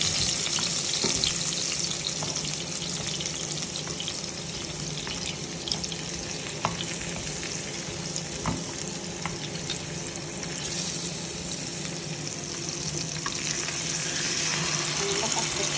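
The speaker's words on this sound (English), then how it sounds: "By the way, guys, I pour this potato first before I fry it." Steady, loud sizzle of potatoes frying in a pan, a continuous crackling hiss with occasional stirring clicks, close by and uninterrupted.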